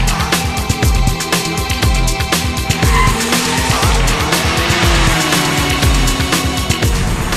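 Race cars slide and spin on a track in poor conditions, tyres skidding and squealing in long continuous bursts over loud, steady engine roar.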